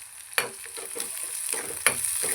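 Chopped onion and green chillies roast in a pan for upma, giving a soft continuous sizzle with a few quick scraping stirs and two sharper knocks.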